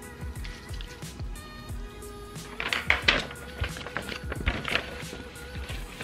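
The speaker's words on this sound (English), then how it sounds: "Can you also hear it shaking with water in there?" A glitter-filled jar holding water is shaken indoors, producing uneven sloshing and clinking bursts that grow louder midway, with a soft background hum throughout.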